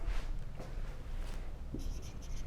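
Marker or chalk strokes on a board during a geography lecture on North America, a run of short scratchy writing sounds with a faint bit of speech.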